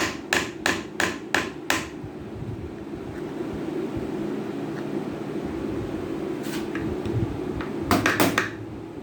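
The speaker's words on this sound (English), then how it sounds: "Why am I using a little hammer? Just because I just don't want to cause any damage." A small hammer tapping on a Muncie SM330 heavy-duty transmission: a quick run of five or six sharp metallic taps, then quiet room hum, then a few more taps near the end.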